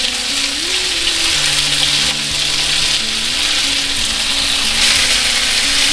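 Cut raw mango pieces sauté in a hot pan for a sweet mango pachadi, giving a loud, continuous sizzle with occasional stirring, steady from start to finish beneath background music.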